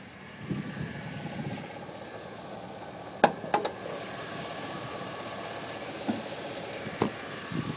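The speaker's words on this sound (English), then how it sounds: "just a good running vortec" A 2005 Chevrolet Silverado 2500 HD utility service-body truck with its Vortec engine idling steadily under the open hood, a smooth, even mid-pitched hum with a couple of brief clicks and knocks near the microphone.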